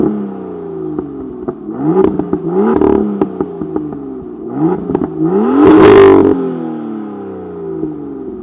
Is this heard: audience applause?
no